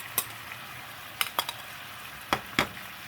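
A spoon stirs sugar into fish sauce so the sugar dissolves, giving a few sharp clinks and scrapes against the bowl amid near silence.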